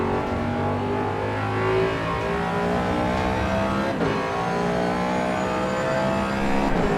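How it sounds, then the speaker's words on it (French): A video game race car engine drones loudly and continuously, its pitch shifting as it revs, with no talking. "le bruit du moteur, on en parle ou quoi"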